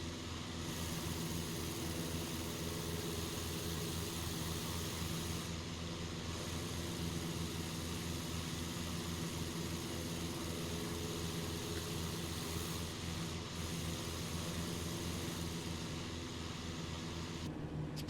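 A CAP-4 Paulistinha propeller plane in MSFS 2024 drones with a steady, low engine hum that holds even and fairly quiet throughout, with no speech.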